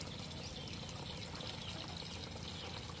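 A goat drinking water in hot weather, heard as a steady, close wash of lapping and trickling liquid that continues without a break and with no voices.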